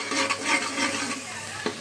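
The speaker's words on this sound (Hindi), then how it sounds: "अब ये प्याज गोल्डन ब्राउन हो गए" Onions frying golden brown in a pan for spicy mutton latpat, a steady loud hissing sizzle close up, with a single knock of the spoon near the end and no talking.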